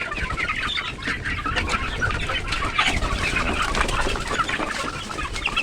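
Kampung chickens about two months old cluck continuously in a coop, a dense flock chorus of overlapping clucks and calls with occasional wing flaps, close and steady throughout.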